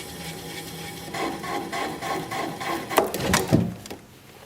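A gouge cuts through wood spinning on a lathe, giving a steady rasping scrape that swells and roughens toward the end, with a few sharper catches as the cut breaks through.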